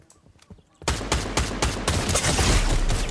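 Rapid bursts of gunfire in Fortnite break out after a quiet start, loud sustained shots firing in quick succession with no talk over them.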